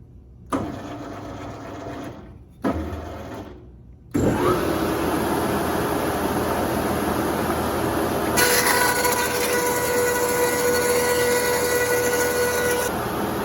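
A thickness planer feeding a wooden ukulele side board: two short bursts of the motor first, then a loud, continuous roaring drone with a harsher, brighter grinding as the blade bites partway through, close and alone.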